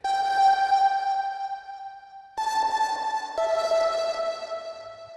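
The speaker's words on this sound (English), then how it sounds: "I actually made those out of those little party blowers" A bright, buzzy reedy tone from toy party blowers holds steady, then jumps to higher pitches in short held blasts, playing a simple riff.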